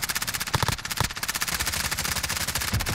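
Gunfire in the video game Warzone: rapid, dense automatic shots fire continuously for a few seconds with a few heavier cracks standing out, loud and close, with no talking.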